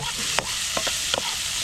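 Aromatics sauté in a hot pan with a steady, close sizzle, broken by a few quick scraping strokes of a spatula stirring the mix.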